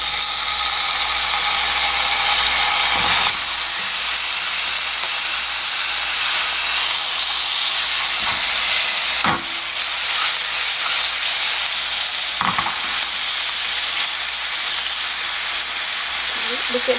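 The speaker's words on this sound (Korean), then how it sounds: "이렇게 해서 앞뒤로 노릇하게 일단 좀 굽고요." Dombaegi shark meat pan-frying in about two spoonfuls of cooking oil in a 24 cm frying pan, a loud continuous hissing sizzle with a few brief clatters.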